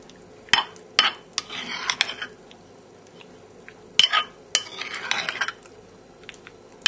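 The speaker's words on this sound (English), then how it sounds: "Give it a nice stir together to get all the prawns nicely coated." Prawns being stirred into a mayonnaise cocktail sauce in a bowl, with clinking utensil knocks and wet scraping strokes in two bursts, close and fairly loud.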